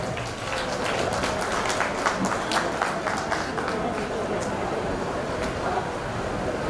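A crowd applauds continuously at a community gathering in Mumbai, a dense patter of many hands clapping at steady volume from start to finish.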